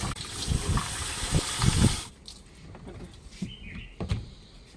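Water splashes and gushes for a couple of seconds inside a washing machine tub being rinsed during cleaning, then gives way to quieter scattered drips and small splashes.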